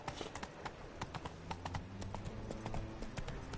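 Roach the horse in The Witcher 3 trots along with hooves clip-clopping in a quick, uneven rhythm throughout, the sharp hoofbeats close and fairly quiet against a low background.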